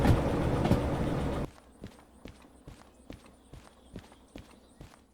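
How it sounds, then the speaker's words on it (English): Train cars coupling in the Derail Valley railway game: a loud, dense rumble for about a second and a half cuts off abruptly, followed by a steady series of sharp metallic clicks and knocks at a fairly even rhythm. "Well, I have coupled up to my train."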